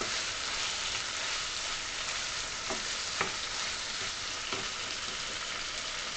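Beef sizzles and crackles steadily in oil in a pan over a medium flame for a Kerala-style fry, with a few faint scraping clicks as it is stirred and no voices.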